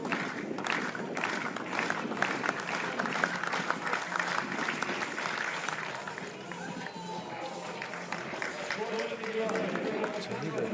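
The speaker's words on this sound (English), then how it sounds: "Rhythmic clapping from the crowd." Spectators at an athletics stadium clap in a steady rhythm throughout, a broad crowd sound heard at a distance beneath an announcer's commentary.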